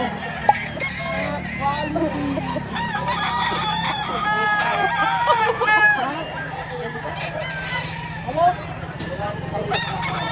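Roosters crowing repeatedly at a busy gamefowl chicken market in Lipa, Batangas, several birds overlapping near and far over crowd chatter and nearby conversation.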